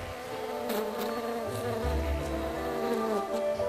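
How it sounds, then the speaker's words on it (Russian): Steady insect buzzing drones throughout, a continuous hum of bees close by with faint fluctuations in pitch and no voices. "пчелы жужжат."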